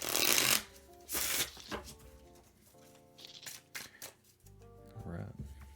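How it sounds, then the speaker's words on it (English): A deck of playing cards is shuffled at a card-game semifinal table, with bursts of riffling and crisp snaps close by, alongside background music and quiet talk. "Do one more shuffle here."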